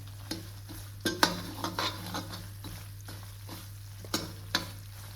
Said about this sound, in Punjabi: ਲੋ ਲੋ ਫਲੇਮ ਦੇ ਉੱਪਰ ਆਪਾਂ ਸੂਜੀ ਨੂੰ 7 ਤੋਂ 8 ਮਿੰਟ ਦੇ ਲਈ ਭੁੰਨਾਂਗੇ